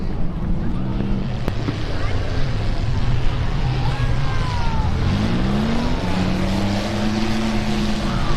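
Youth autocross race cars at a demolition derby event roar steadily past on an oval, their engine notes rising and sweeping in pitch amid wind noise, with indistinct voices underneath.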